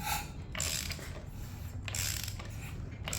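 Ford Focus ST D25 engine turned over by hand, two slow rounds of dry mechanical ratcheting and clicking from the rotating internals, close and alone.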